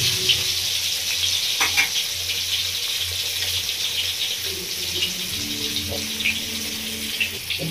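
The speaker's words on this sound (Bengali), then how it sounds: "মাছটা খুব ভালো করে ভেজে নিয়েছি, দিয়েছি লাল লাল করে" Katla fish frying in a pan for a Bengali village-style recipe gives a steady, close crackling sizzle that runs unbroken from start to end, with no voices.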